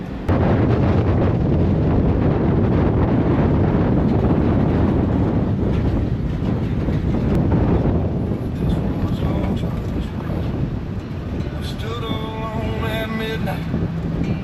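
Strong wind roars around a Toyota 4Runner on a solo camping trip in the canyons, a loud, constant, buffeting rush that fills the whole stretch, with music rising faintly near the end.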